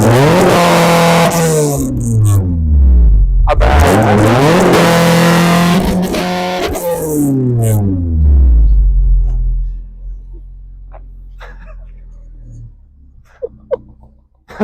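A Honda Civic VTEC engine revs hard several times, each sweep climbing sharply to a screaming peak near 9000 rpm and falling back, loud and close, before settling to idle; a man briefly murmurs under it.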